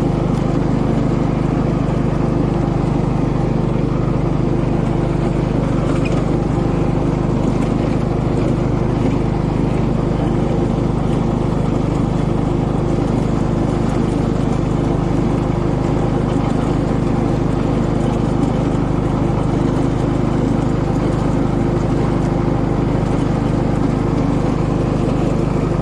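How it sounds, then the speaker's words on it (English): A ride-on lawnmower cuts a lawn of about 1.5 hectares, its engine a loud, close, unbroken drone that holds steady throughout with no voices. "if you didn't have a ride-on lawnmower"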